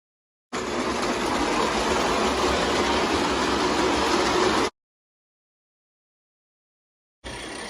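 A model live steam engine runs with a steady, close hiss for about four seconds, cuts to silence, then starts hissing again near the end. No voices are heard.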